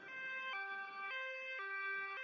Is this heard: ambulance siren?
yes